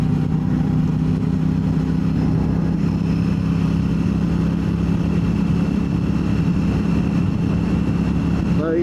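Royal Enfield Classic 650 motorcycle out on a ride, its engine a steady, close, continuous rumble with no break.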